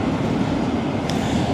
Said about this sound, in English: we're in the middle of basically a train line and a motorway